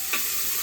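Onion, tomato and curry leaves frying in a pan, giving a steady close sizzle with a brief stirring scrape near the start.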